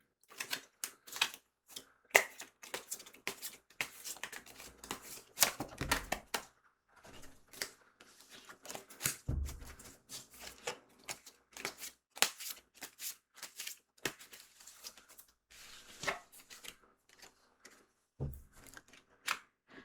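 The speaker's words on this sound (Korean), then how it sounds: "조언 카드 한번 뽑아보도록 하겠습니다" Tarot cards are shuffled and drawn close up by hand in a quiet room: a long run of dense papery riffles and flicks, with soft taps and slaps as cards are laid down.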